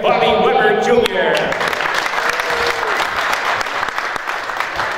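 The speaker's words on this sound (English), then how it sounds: "A big round of applause." A crowd claps at a dirt-track race event, the applause swelling after a voice on the public address system and continuing as a steady, moderately loud patter for several seconds.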